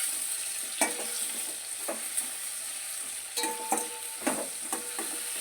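A spoon stirs salt, rock salt and turmeric into a cooking pan over a soft background sizzle, giving a series of scattered scrapes and knocks, fairly quiet and close.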